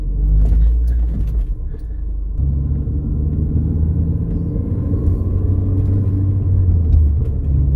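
A 2006 Mini Cooper S convertible drives along a road, heard from inside as a loud, steady low engine and road rumble with a slight shift in tone partway through.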